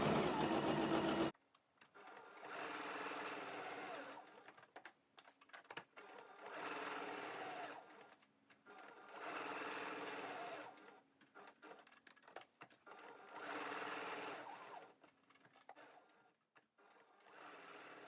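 Domestic sewing machine stitching fabric for seasonal fabric flowers, running in repeated bursts of steady mechanical whirring separated by short pauses, close and clear with no talk.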